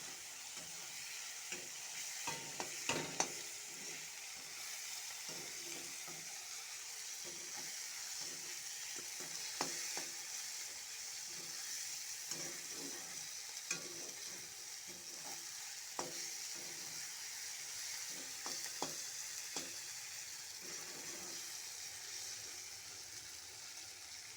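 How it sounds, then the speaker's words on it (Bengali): Chopped onion and tomato sauté in a pan for a chickpea lentil and bottle gourd dish, giving a soft, steady sizzle broken by scattered stirring scrapes and light clinks throughout. "ভালো করে কষে নেব পেঁয়াজ আর টমেটোটাকে।"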